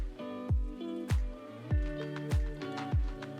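Liquid drips through a 0.22 micron PES filter into a low actinic media bottle, a series of resonant plinking drops about every half second, each with a falling pitched ring, clear and close.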